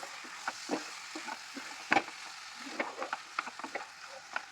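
Chopped liver stirred with masala in a pan makes faint, scattered scraping taps over a soft sizzle, irregular and close.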